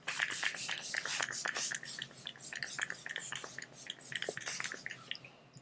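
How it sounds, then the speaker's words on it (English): Rapid clicky spritzes and fine hissing puffs repeat in quick bursts, close and fairly quiet, as a Caliray makeup setting spray is pumped several times. "I'm going to finish off the face with the Caliray setting spray"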